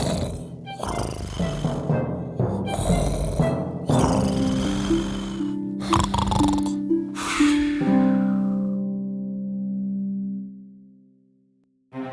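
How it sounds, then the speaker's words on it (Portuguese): A cartoon man snoring in a loud, exaggerated way, with a few rough, rasping snores followed by a long, drawn-out droning tone that fades away near the end. "E então ele começou a roncar para enganar as princesas."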